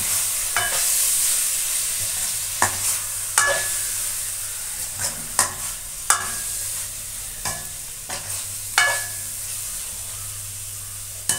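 Tomatoes frying in a pan for squid curry, a continuous sizzle broken by repeated scraping stirs and knocks of the spoon every second or so, close up.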